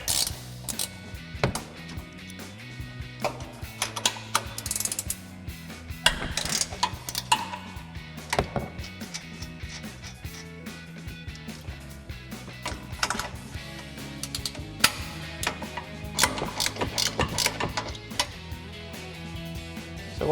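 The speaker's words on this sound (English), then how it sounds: "So we'll grab our 15 millimeter ratcheting wrench." A 15 mm ratcheting wrench loosens the front strut mounting nuts on a 2015-2020 Ford F-150, giving off bursts of quiet, rapid mechanical clicking with short pauses between them, close by and with no talking.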